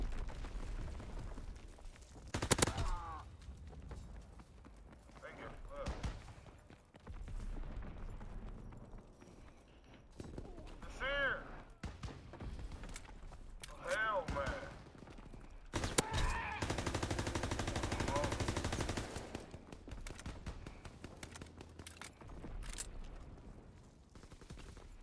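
Bursts of gunfire in the World War II shooter Call of Duty WWII, with several loud broadband volleys and scattered shots across the stretch, some sustained rattling near the middle and end, amid other battle noise.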